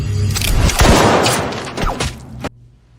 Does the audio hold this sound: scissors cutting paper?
no